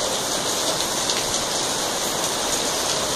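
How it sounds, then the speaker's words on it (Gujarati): Heavy rain pours steadily in the Bhavnath foothills area, a loud, dense, unbroken wash of falling water with no voices. "શહેરના ભવનાથ તળેટીમાં પણ સારો એવો વરસાદ વરસી જતા સાધુ સંતો પણ મોજમાં આવી ગઈ"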